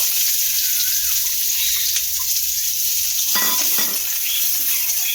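Chopped onion fries with nigella seeds in hot oil, giving a steady, dense sizzle throughout with occasional stirring scrapes partway through and no talk.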